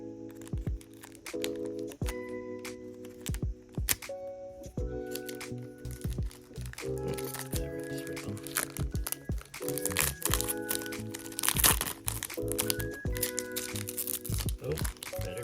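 A Pokémon card pack wrapper crinkles and tears as it is opened up close, with steady loud rustling and crackling throughout.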